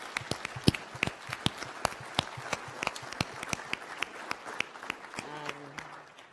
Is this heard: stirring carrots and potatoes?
no